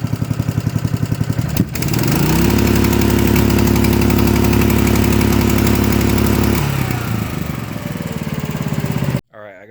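A hand-controlled go-kart engine runs steadily and loud for most of the stretch, its tone jumping up after a brief dip, holding an even drone, then falling back before cutting off abruptly near the end.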